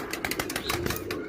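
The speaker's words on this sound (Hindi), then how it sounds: "ये कबूतर बैठा हुआ है" Pigeons perched on a rooftop pigeon loft flutter and coo up close, with quick bursts of wing flapping and soft calls packed into a brief moment.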